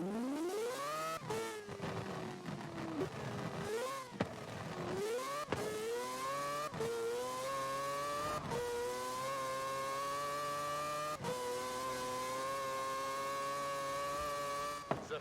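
Mazda Miata MX-5 fitted with a 2.6-liter rotary engine in the video game Forza Horizon 4, a loud, smooth, high-pitched engine whine sweeping up through the revs with repeated gear-change dips before holding a steady cruising pitch.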